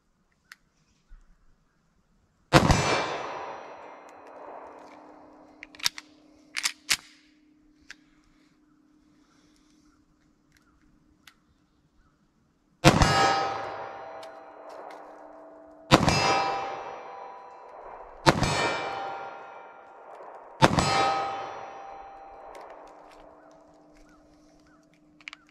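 Five loud .40 S&W pistol shots ring out at a 25-yard range, widely spaced single cracks with metallic ringing tails and some faint clinks between them.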